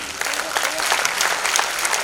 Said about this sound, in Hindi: तालियां थोड़े जोरदार होना चाहिए.